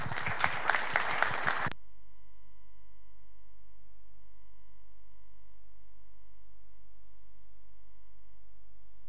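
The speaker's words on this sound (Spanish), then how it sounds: "Un aplauso para Laura, por favor." An audience applauds a speaker at a talk, with a short burst of clapping lasting under two seconds that cuts off abruptly into silence.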